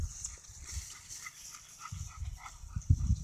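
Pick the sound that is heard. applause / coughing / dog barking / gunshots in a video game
dog barking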